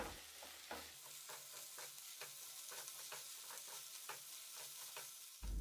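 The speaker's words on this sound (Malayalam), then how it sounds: "പിന്നെ ആവശ്യത്തിന് കറിവേപ്പിലയും കൂടി ചേർത്ത് കൊടുത്തിട്ട് എല്ലാം കൂടി നന്നായിട്ടൊന്ന് വഴറ്റിയെടുക്കണം." Onions with green chilies and curry leaves are sautéed in a pan for an egg roast, giving a continuous close sizzle punctuated by regular scraping spatula strokes.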